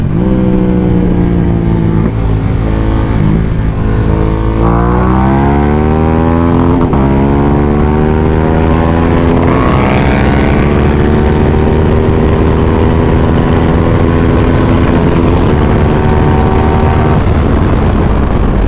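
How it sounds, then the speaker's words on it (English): A motorcycle with a ferocious exhaust revs and accelerates loud and close for the whole stretch, its pitch climbing in repeated sweeps through the gears before settling into a steady high-speed drone. "its exhaust is more ferocious than the 1290s"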